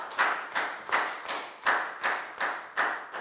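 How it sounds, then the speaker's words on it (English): Students in a Year 4 classroom clap for a classmate, a small, fairly near round of claps coming in an even, evenly spaced rhythm rather than a dense crowd roar; no voices. "Big round of applause for Pak Bung"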